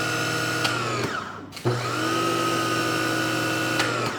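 An AVA pressure washer's universal motor runs as a loud, close, high-pitched whine, cutting out briefly and then spinning back up to a steady drone.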